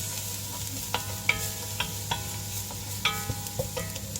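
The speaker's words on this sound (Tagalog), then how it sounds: "unahin muna natin igisa ang bawang" Garlic sautés in a pan with a constant soft sizzle, broken by several sharp clinks and scrapes as it is stirred.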